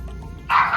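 Farm dogs barking: a single short, close, fairly loud bark or yip rising out of a quiet background, with no talking.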